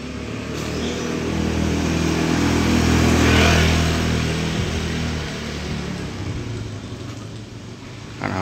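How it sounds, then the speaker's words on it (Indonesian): Outdoors near a hovering drone, a motorcycle engine drones past with a low rumble that swells toward the middle and then fades away over several seconds. "Nah, motor lewat nih,"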